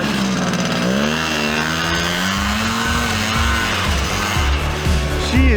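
Vintage Pantera snowmobile engine with a slightly sticky throttle, revving loud and close, its pitch rising and falling in sustained waves with a few sharp blips near the end.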